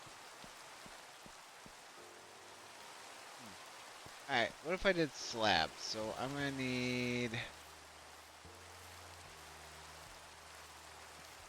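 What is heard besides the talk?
rain in Minecraft, a video game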